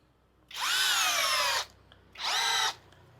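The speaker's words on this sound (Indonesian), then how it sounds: "Nah di sini kita masuk ke mode pengeboran ya, atau mode drilling ya. Di sini ada mata auger bit ya." A cordless drill driver spins a 10 mm auger bit in drilling mode, with two loud, high whirring bursts of about a second each separated by a brief pause.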